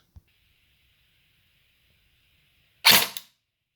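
Airsoft gun with an APS gearbox test-fired once with a muzzle-loaded gel: a short, sharp, loud pneumatic pop with a brief hissy tail, after a faint click and a thin quiet whine.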